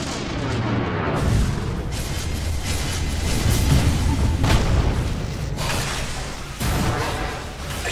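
Heavy booming battle noise in the Dota video game as a tower comes under attack, with loud rumbling impacts and bursts sustained throughout and a sharp jump in loudness near the end.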